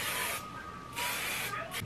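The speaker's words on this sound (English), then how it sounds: "Oh yeah, just spray it really fast." Hair spray blasted in quick bursts during a hair styling session, a loud broad hiss lasting under half a second, pausing, then spraying again twice more close to the mic.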